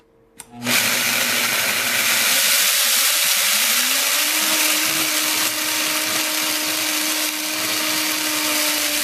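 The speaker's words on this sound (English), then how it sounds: "I'm going to turn the machine on and increase the speed to variable 10" A Vitamix TNC blender switches on and ramps up to a loud, steady roaring whir as it grinds grains into flour at high speed, holding a constant pitch after the motor climbs.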